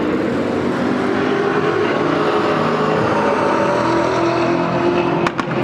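A Camaro and a Mustang roar off the drag strip start line together, a loud sustained engine drone heard from trackside at a Hot Rod Power Tour event.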